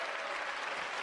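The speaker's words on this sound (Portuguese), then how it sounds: "Um aplauso ao porco!" Audience applause at a live talk, a steady wash of many hands clapping at once, fairly distant and even throughout with no voices on top.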